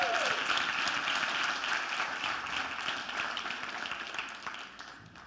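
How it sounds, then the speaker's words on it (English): Conference audience at a real estate company event gives a round of applause, moderately distant, steady clapping that gradually thins and fades. "Give these guys a round of applause."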